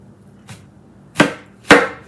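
A knife slicing carrots on a cutting board while cooking Sunday supper, with two firm, close chopping knocks after a faint earlier tap, each cut ringing briefly against the board.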